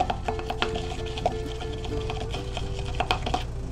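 A homemade hair gel of xanthan gum and glycerin is stirred by hand, with soft scraping and a few light taps against the container over a low steady hum, no voices.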